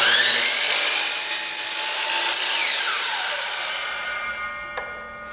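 A Dewalt DWS760 sliding miter saw slices through wood at an angle, a loud, steady high-pitched blade whine that holds for several seconds and then winds down toward the end, with no talking.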